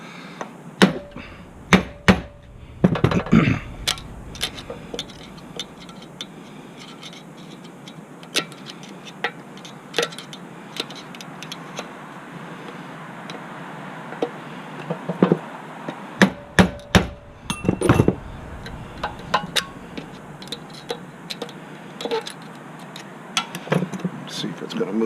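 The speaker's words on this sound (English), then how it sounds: "I'm going to give it some more blasts with my little screwdriver." A screwdriver is hammered against the governor of a Predator 212cc engine, giving sharp metallic knocks in irregular clusters, loud and close, with steady background noise between strikes.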